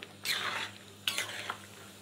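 A spoon scrapes through fried spices in a kadai while ghugni is being made, giving two distinct scraping strokes against the metal with a quiet pause between them.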